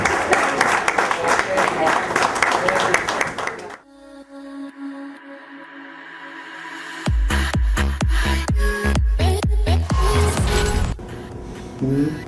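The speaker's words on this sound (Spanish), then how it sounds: "Fuerte el aplauso." Applause at the Conafutsal 2017 futsal awards ceremony, with a crowd clapping loudly at first, then a brief quieter gap, then more sharp, close claps and noise returning strongly.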